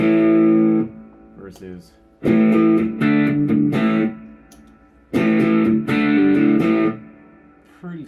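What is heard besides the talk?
Strymon Deco V2 tape saturation in classic mode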